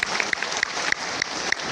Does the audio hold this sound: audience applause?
yes